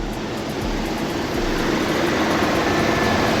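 A car engine runs steadily, loaded down by its AC compressor, giving a dense, loud, constant drone with no talking.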